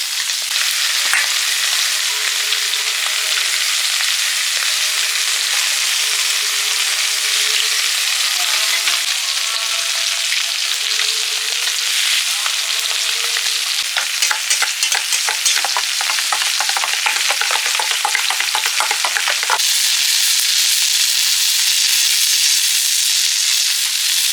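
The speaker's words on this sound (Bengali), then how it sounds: "ডিমগুলো ভেজে নেব" Beaten eggs mixed with chopped chilli and onion fry in hot oil. A loud, continuous crackling sizzle with bursts of spattering runs for the whole stretch, with no voices.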